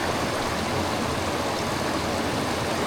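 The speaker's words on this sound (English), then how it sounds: "get some water out of there. Shake it around, get that gold at the bottom." Water sloshes in a gold pan as it is shaken while panning for gold, a continuous close rushing splash without pauses.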